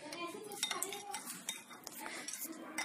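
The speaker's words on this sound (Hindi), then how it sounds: "इसलिए मैं हल्का सा वाटर मिक्स कर रही हूँ।" Water being mixed into yogurt in a bowl for dahi vada, heard as quick clinking and scraping of a spoon against the bowl in irregular bursts, close and fairly quiet.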